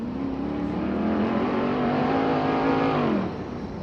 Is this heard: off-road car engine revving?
yes